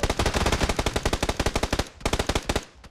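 Rapid automatic gunfire in PUBG on PS4 near a lake, loud, evenly spaced shots in two sustained bursts separated by a brief pause, sharp and close with no talk over them.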